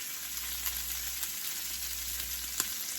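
Bacon frying in a pan, a steady close crackling sizzle with a few sharper pops, heard on its own.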